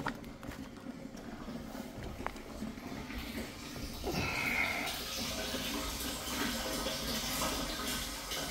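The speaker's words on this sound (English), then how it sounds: "So that's the kind of flow we got at the moment, but that's coming out of 100 feet of PEX pipe." Water from an off-grid 24-volt well pump gushes out the end of 100 feet of PEX pipe into a tank, a continuous rushing splash that swells louder midway, with faint background noise.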